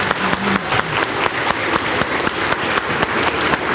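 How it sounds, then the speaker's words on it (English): An audience applauds an author, Chris Priestley, at a school reading event: dense, steady clapping from many hands fills the room throughout, fairly loud and close, with no talk over it. "Let's give a round of applause for our author this morning"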